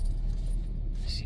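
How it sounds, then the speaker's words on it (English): Car keys jangle close by as the ignition key is switched off and back on in a vehicle after a forward-looking sensor recalibration, a brief metallic rattle over a steady low rumble. "So let's turn the key off. Back on."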